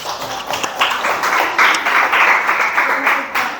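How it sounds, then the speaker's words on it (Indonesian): Classroom applause for group 3 after their presentation, a burst of clapping from students that swells after the first half-second and holds steady with some voices mixed in, tapering near the end. "Dan beri tepuk tangan untuk kelompok 3."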